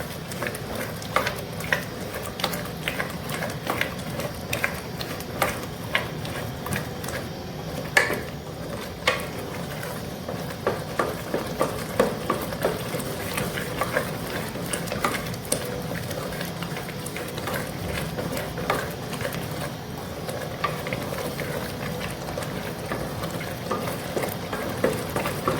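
Whisked yogurt is stirred into a sizzling potato and spinach curry in a pan, with continuous close scraping and clicking utensil strokes over a low simmer that runs evenly throughout.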